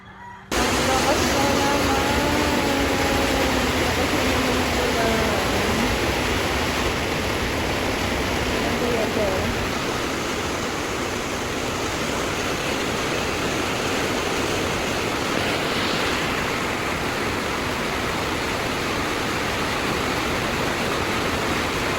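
Heavy rain pouring down steadily during a nighttime power outage, a dense, loud, unbroken roar close by, with brief talking early on.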